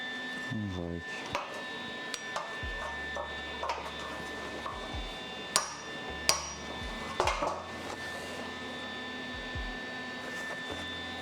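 Metal hammering on a car steering column being adjusted near a welding spot, struck with a smaller hammer: a series of sharp, ringing impacts spaced irregularly over steady background hum, with a few louder clanks standing out.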